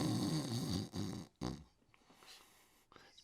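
A person's voice imitates the snore of a big, burly orc: a deep, rasping, gurgling inhale that cuts off abruptly, followed by a quieter breathy trailing exhale, close and alone.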